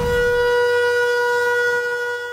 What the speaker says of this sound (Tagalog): pinatunog na ang sirena bilang hudyat sa mga residente na maghanda sa panganib na maaaring idulot ng sama ng panahon